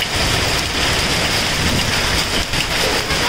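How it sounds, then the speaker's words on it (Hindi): Hail pelts stones and open fields in the Himachal hills, a loud, dense, steady rattling patter that stays close and constant throughout, with no voices over it. "ओले।"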